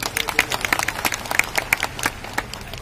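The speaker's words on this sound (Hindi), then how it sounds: "आप लोग जोरदार तालियां बजाइए" Sparse, uneven handclaps at an outdoor gathering, several people clapping irregularly rather than a full burst of applause, fairly close and moderately loud.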